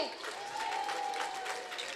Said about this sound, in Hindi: ताली हो जाए इस ग्रुप के लिए।